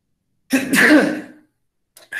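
One loud, close sneeze that bursts out and trails off, then a short quiet gap and a brief faint noise after it.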